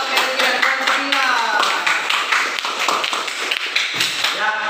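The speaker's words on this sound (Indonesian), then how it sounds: "berikan aplaus dulu untuk temannya Sapriasa, Belki dan Rehan Fadila" Students give a short burst of clapping in a classroom, with quick, close claps mixed with a voice talking over them.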